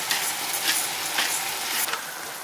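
Kidneys frying with Worcester sauce in a hot pan, a steady loud sizzle with a few stirring scrapes, close up and alone.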